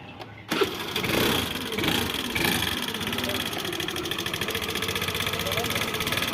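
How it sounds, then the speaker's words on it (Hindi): A Hero Pleasure scooter's engine starts and runs steadily at idle, its rapid rattling tick of worn tappets carrying throughout, close and fairly loud, with faint background voices. "तो गाइज इसके इंजन के अंदर से बहुत ही ज़्यादा आवाज़ आ रहा है।"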